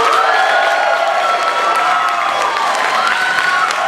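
A crowd applauding and cheering at a political debate between state senate candidates, sustained dense clapping with some shouts, loud and continuous throughout.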